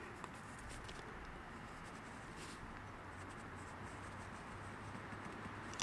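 A pencil drawing a deliberately uneven line in a Hobonichi Techo planner, faint soft scratchy strokes against paper, quiet and close with light scraping pulses over a low hiss.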